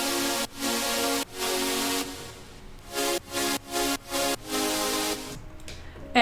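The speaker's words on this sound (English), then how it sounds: "So the super saws sound like this." Layered supersaw synth chords from a future bass drop made in FL Studio, loud and bright, chopped by heavy manual sidechain pumping into a string of rhythmic swells and sharp dropouts.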